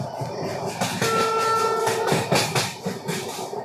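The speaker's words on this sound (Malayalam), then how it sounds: "ഇപ്പോൾ ട്രെയിൻ ഇങ്ങനെ പോയിക്കൊണ്ടിരിക്കുകയാണ്. ഇപ്പോൾ സ്പീഡ് എടുത്ത് തുടങ്ങിയിട്ടോ. നല്ല നോയ്സ് ഉണ്ട്" A passenger train rolls along and gathers speed, its wheels clattering rhythmically under a loud rushing rumble, with a brief steady horn-like tone sounding partway through.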